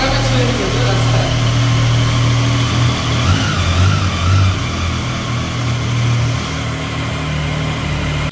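A Triumph Street 765 motorcycle with a 765 cc, 12-valve engine runs close by, a loud, steady, low mechanical drone with slight swells in pitch, and no talk over it.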